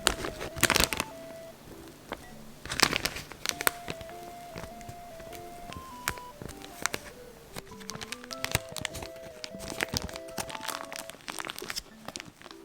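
Crinkly rustling of a plastic ziplock bag set inside a tall cup while meringue batter is spooned in, close up and steady, with sharp crackles and a few faint tonal notes under it and no talking.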